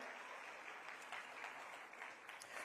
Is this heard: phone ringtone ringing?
no